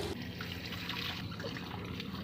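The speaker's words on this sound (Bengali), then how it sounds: "এবার ধুয়ে নেব ভালোভাবে" Running water rinsing cut watermelon rinds in a kitchen, a steady close trickle and splash that continues evenly throughout.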